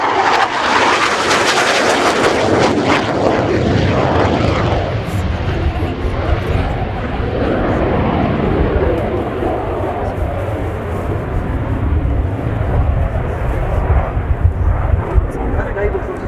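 Romanian Air Force MiG-21 LanceR C jet flying a display at RIAT 2019, a loud sustained roaring jet engine that swells and slowly fades, with a commentator talking over it.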